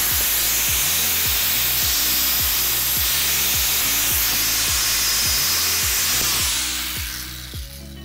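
An angle grinder deburrs the end of a threaded steel rod, giving a loud, close, steady high whine over rhythmic grinding pulses that ease off near the end.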